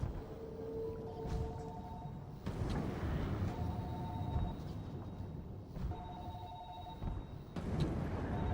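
Repeated telephone-style ringing in a horror video game, sounding in three short bursts over a rumbling, noisy backdrop with no speech.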